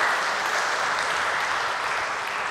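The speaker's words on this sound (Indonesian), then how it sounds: "Beri tepuk tangan untuk kemuliaan Tuhan." A church congregation applauds, a dense, even wash of many hands clapping at steady loudness throughout, with no voices standing out.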